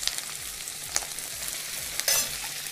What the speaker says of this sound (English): and saute it well.